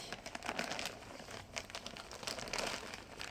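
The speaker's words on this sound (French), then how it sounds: "Alors pourquoi un sac de terreau? Eh bien parce que c'est pratique, on peut l'enrouler comme ceci." An old plastic potting soil bag being rolled up, close, faint crinkling and crumpling in uneven bursts, no talking.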